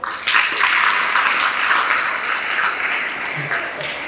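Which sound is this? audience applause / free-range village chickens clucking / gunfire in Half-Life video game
audience applause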